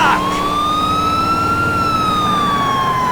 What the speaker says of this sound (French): Mais pourquoi tu mets les sirènes?